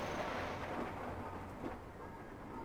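Thunder from lightning in the Space Engineers Mars survival game, a low, broad rumble rolling steadily through the whole stretch with no voices over it.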